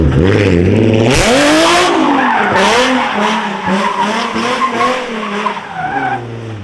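A Nissan 350Z with a new loud exhaust and new wheels sliding, tires squealing as the engine revs hard and rises and falls in pitch, loud and close throughout.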